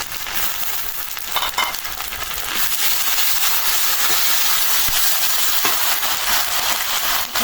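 A paste of ginger, garlic, cumin, coriander, dried chilli and onion fries in hot oil with a loud, steady sizzling hiss that runs unbroken throughout.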